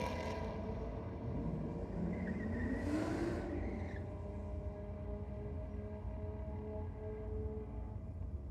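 At a drag strip on a night of drag and drift racing, cars idle and rumble at the start line, with one engine revving up briefly over a steady, loud, droning background.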